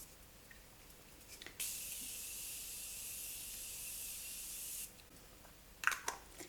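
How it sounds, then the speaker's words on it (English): A single sustained hiss of Morphe setting spray misted onto a face, about three seconds long, fine and steady against a quiet room, with faint rustling afterward. "let's spray my face with the Morphe setting spray"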